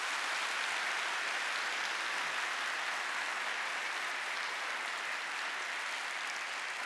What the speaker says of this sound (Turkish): bu alkışlar sizin için